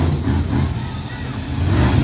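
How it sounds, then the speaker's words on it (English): The Lumberjack monster truck's big engine growls and revs as it slings around in a turn in a Middletown, New York arena, a loud, rough low-pitched roar throughout with a commentator talking over it. "Slings that truck right around as he gets ready for his second hit."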